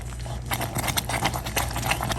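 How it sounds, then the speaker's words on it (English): Heavy cream added to hot caramel of brown sugar, corn syrup and maple syrup for caramel corn: a loud, close, continuous bubbling and sputtering with rapid irregular pops, and no talking. "Now I'm going to add a half a cup of heavy cream."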